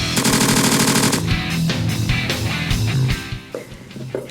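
Rapid automatic gunfire at an outdoor gun range: a loud, dense burst of shots for about a second, followed by a string of separate heavy reports and echoing bangs that fade toward the end.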